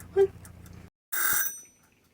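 A kitchen timer rings while mushrooms cook in a campervan kitchen, a single bright ringing burst of about half a second that fades out after a quieter stretch of background noise.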